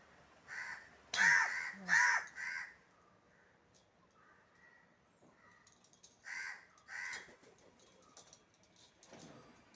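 Several crows caw in short bursts, a loud pair near the start and another pair later, with quieter calls and faint background noise between.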